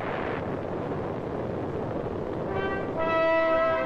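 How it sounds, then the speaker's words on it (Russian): The Tsar Bomba, a 50-megaton Soviet hydrogen bomb tested on 30 October 1961, heard as a steady, distant, low broadband roar and rumble, with faint sustained tones rising near the end. "30 октября 1961 года был произведен взрыв чистой водородной бомбы с тротиловым эквивалентом"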